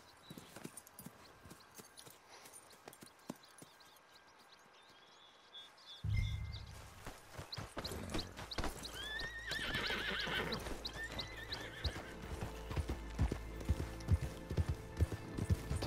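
Horse hooves clip-clopping with repeated whinnies and neighs in the Red Dead Redemption 2 Online western game, quiet at first, then louder and busier from about six seconds onward, with faint bird chirps in the background.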